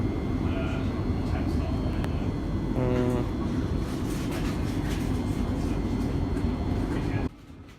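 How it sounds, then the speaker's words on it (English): Steady low rumble and broadband hum inside a moving Thameslink commuter train in South East England, continuous and fairly loud, with a brief rhythmic clatter mid-way and a sudden drop in level near the end. "I'm on the train back, and it's pretty nice. Thameslink service actually."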